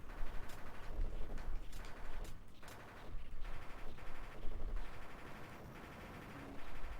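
Rapid bursts of gunfire from a gunner in the Sega Genesis game General Chaos, crackling repeatedly and loudly through the whole stretch amid other game noise, with short gaps between volleys.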